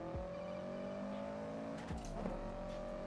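Toyota GR86 engine in a racing video game, droning steadily at close range with a rising rev line and a brief tire squeal near the end, heard alone without talk.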